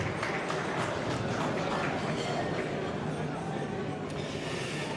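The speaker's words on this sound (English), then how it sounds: "a big round of applause to you, of course, for being our sponsors this evening as well." Applause at a gala dinner for the evening's sponsors: a steady, dense wash of clapping from a large seated crowd, even and continuous throughout, heard from a distance in a hall.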